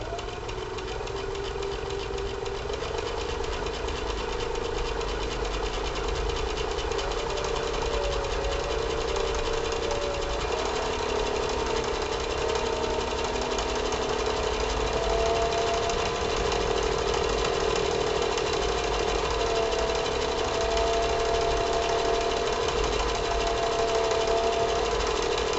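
A sewing machine runs fast and steady while stitching a zippered pistol case, a continuous rapid mechanical chatter that holds close and even throughout without talk.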